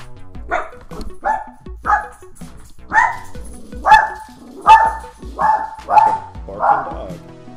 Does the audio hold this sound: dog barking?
yes